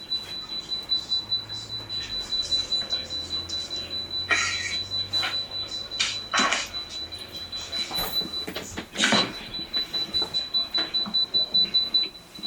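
A timer beeps in quick, steady pulses for the whole stretch while people handle silicone caulk and braided wire nearby, with occasional sharper rustles and clunks.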